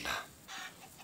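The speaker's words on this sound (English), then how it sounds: "Chicken!" A Minecraft chicken gives two short clucks in quick succession, close and clear with nothing else around them.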